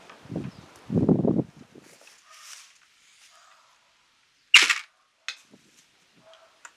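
A medieval crossbow fires a field point arrow with a sharp, loud snap. A couple of small clatters and faint rustles follow in an otherwise quiet outdoor space.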